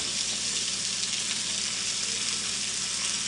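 Food sizzling steadily on a hot grill while it chars, corn and pineapple for salsa, a close, continuous bright hiss with no breaks and no talk.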